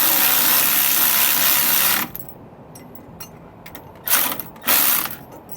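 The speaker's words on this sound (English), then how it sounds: "9/16 socket for these pieces of hardware here on these U-bolts." A ratchet with a 9/16 socket tightens U-bolt nuts, giving a long continuous clicking run followed by a few short ratcheting strokes, close and loud.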